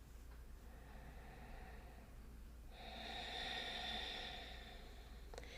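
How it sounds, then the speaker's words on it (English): Slow meditation breathing, faint and close, a long airy exhale swelling midway and fading out, with no talk. "by doing this breath work, this breathing part of meditation"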